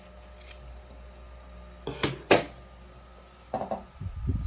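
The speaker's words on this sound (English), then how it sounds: "wrap the yarn around my arm, cut it into 2," Scissors snip through strands of yarn for a crochet fringe dress, a few quick, close, quiet cuts spaced apart with soft handling noise between them.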